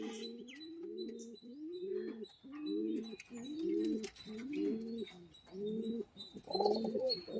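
Pigeons in a racing pigeon loft coo steadily in a repeating rhythm of rolling calls, close and clear, with faint chirps behind them and no talking.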